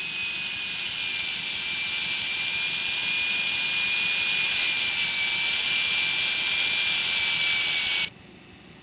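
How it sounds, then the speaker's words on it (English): A rubber polishing point spins against a dental restoration sealing an implant screw hole, giving a steady, high-pitched, whining whir that holds evenly for about eight seconds and then cuts off abruptly. "A rubber polishing point is used for the final polish of the restoration."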